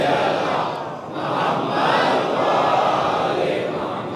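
A congregation at a majlis in Panjetani Hall, Mahuva, recites salawat together, a dense crowd of voices in unison swelling and dipping over about four seconds, loud and close.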